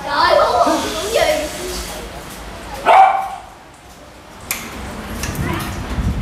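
A dog barks and growls close by in short, loud bursts, with one sharp bark standing out, while a person speaks over it.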